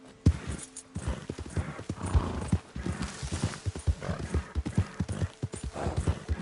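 A horse gallops in the video game Red Dead Redemption 2, its hooves beating in a quick, uneven rhythm of loud clops, with a rider's short voice cues heard faintly in between.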